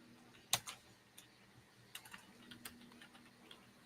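Scattered keystrokes on a computer keyboard while searching, a sharp initial tap followed by lighter irregular clicks, quiet and close over a faint electrical hum.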